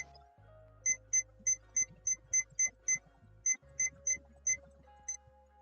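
A Tamagotchi digital pet gives a run of about a dozen short, evenly spaced electronic beeps, clear and close against a quiet background.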